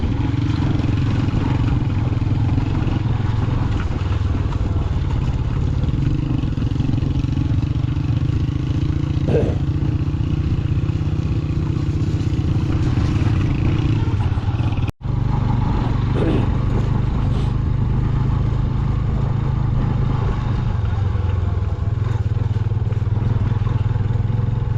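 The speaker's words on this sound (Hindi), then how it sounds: "बाइकों पे खड़े होकर बाइक चलाना बहुत मुश्किल है" Motorcycles ridden on a muddy, rain-soaked mountain trail, riders standing on the pegs; a loud, close, continuous engine drone with rattling and clattering that runs unbroken through the whole stretch.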